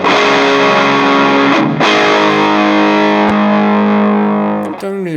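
Electric guitar through a Cuvave Cube Baby amp with a bluesy distortion tone, loud sustained chords ringing with a couple of brief breaks, then a closing slide as the notes fade.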